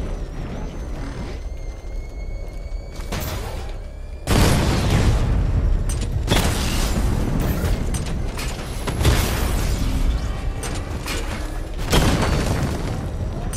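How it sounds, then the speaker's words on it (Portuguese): Missile barrage explosions in the video game Batman Arkham Knight, a run of loud booming blasts in quick succession, each burst followed by rumbling decay, with heavy sustained impacts through most of the stretch and no talking. "Carregue a barragem de mísseis no nível 2 e destrua 4 alvos ativos"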